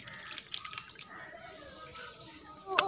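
Tap water runs steadily while a fish is rinsed clean, with light splashing and a few brighter drips; a louder splash near the end.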